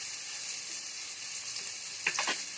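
Ginger garlic paste hits hot oil in a pan with onions, giving a steady soft sizzle and frying hiss, with a couple of brief louder crackles near the end.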